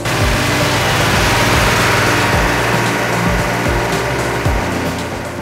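A cable pulling machine engine at an electrical substation runs hard during a 1000 kg final pull, a loud continuous engine drone with uneven low throbbing and slight load shifts, gearbox trouble noted, no talk over it.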